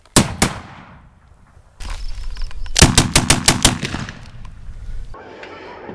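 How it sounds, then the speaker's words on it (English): Black powder blanks fire in loud, sharp reports close by: a couple of single shots, then a rapid string of several bangs, with ringing decay between them. "A black powder blank sounds very cool"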